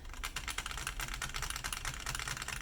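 Rapid, quiet clicking of keys on a 3D printed macro pad fitted with 3D printed switches, a dense irregular patter of light plastic taps close up.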